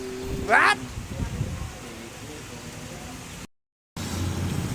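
Steady rain hissing across a surface during a motorcycle ride, with a passing engine and a voice early on, then a brief dropout before the downpour resumes.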